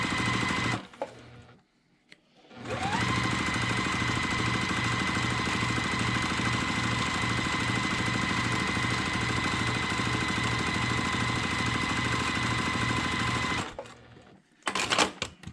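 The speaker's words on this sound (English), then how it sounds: "I'm going to stitch a 1/4 inch seam along the long edge" Sewing machine stitching a quarter-inch seam along the long edge of fabric, a brief start and stop, then a long steady rhythmic whirring run at constant speed, close and loud, ending with a short stop and restart.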